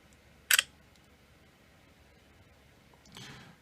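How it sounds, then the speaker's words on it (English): A Sony Xperia Z3 smartphone camera fires its shutter with a sharp, brief click, followed by a softer, longer shutter sound a few seconds later, close and clear against a quiet room. "I'm going to use the shutter button"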